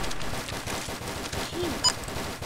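Rapid gunfire in the Roblox video game, a dense burst of automatic shots running steadily under faint background talk, with a short sharp ping near the end.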